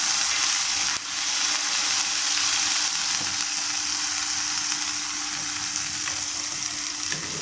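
Ginger garlic paste frying in hot oil in a pan, a loud, dense and continuous sizzle with a slight spatter at the start, close up with no talking.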